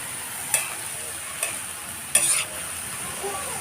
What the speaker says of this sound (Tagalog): Ay, nahaluin natin. Para malanta lang yung gulay.